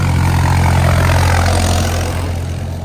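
A tractor engine rumbles loudly nearby with a deep, steady low drone, easing slightly as it moves off along a hill road between Athirappilly and Valparai, and no voice present.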